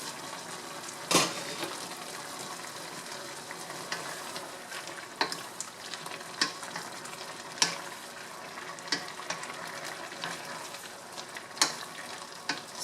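Blanched vegetables for shrimp and pork chop suey fry in a hot pan, a continuous soft sizzle broken by repeated sharp clacks and scrapes of stirring, close and alone without speech.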